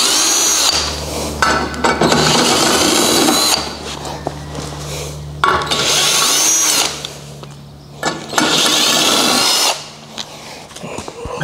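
A cordless power drill backs screws out of an automated Turbosawmill, giving loud whirring bursts of a few seconds each, separated by short pauses and clicks, close to the listener.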